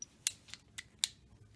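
A box cutter slices through a garage door panel in four short, sharp cuts spaced evenly apart, close and fairly quiet over a low background hum.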